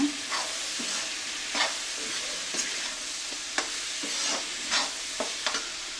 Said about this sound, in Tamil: உருளைக்கிழங்கு, பட்டாணி போட்டு மிக்ஸ் பண்ணிக்கோங்க.